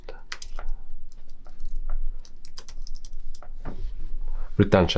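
Typing on a computer keyboard, bursts of quick close key clicks in uneven runs, with a voice talking over them.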